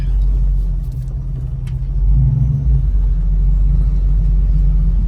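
A 1965 Ford Mustang drives along with a deep, loud engine rumble heard from inside, swelling briefly as it pulls harder before settling back to a steady low drone, with no talk.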